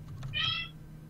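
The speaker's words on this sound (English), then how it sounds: "Did you hear my cat?" A single drawn-out meow from a house cat, faint and a little distant, over a steady low electrical hum, with no talk.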